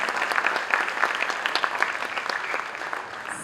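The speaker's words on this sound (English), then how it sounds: "It's truly a huge round of applause for them." Audience applause after a Bharatanatyam dance performance, a dense, steady clapping from a crowd that carries on evenly from start to finish with no talk over it.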